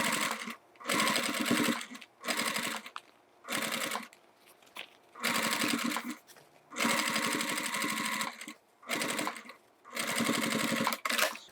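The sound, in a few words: sewing machine top stitching a toiletry bag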